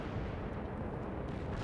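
Artillery guns firing in the real-time strategy game World in Conflict, with a dense, continuous rumble of distant blasts and explosions rolling loudly without pause.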